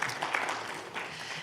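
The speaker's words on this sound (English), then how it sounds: "Just give yourselves a big round of applause." Applause from an audience at a district attorney candidates' forum, a steady wash of many hands clapping throughout, moderately loud with no voices over it.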